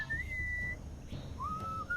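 Two clear melodic whistled phrases in the video game Sam & Max: Beyond Time and Space, one near the start and another after a short pause, with soft background hum.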